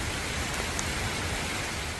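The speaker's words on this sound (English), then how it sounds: "It started to rain pretty good." Rain falling steadily at a botanical garden on Hong Kong Island, a dense even hiss of drops on surfaces with no gaps, moderately loud and close, no talking.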